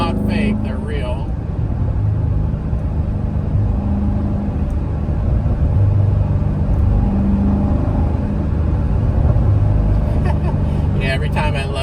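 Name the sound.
car engine and exhaust under hard throttle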